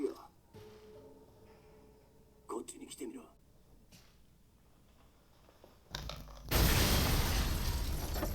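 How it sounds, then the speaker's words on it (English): Explosions in the video game Resident Evil 7 land as several sharp bursts and bangs, then a heavy roaring blast that swells and fills the end, with brief game sounds between. "Explosions."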